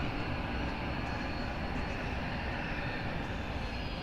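Small jet engines starting up on the Le Bourget airfield, Paris: a continuous, steady roar with a broad rushing hiss, constant in loudness and heard from some distance, with no one talking.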